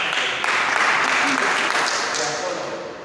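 Church congregation applauding together, a dense, loud burst of clapping that fades slightly toward the end.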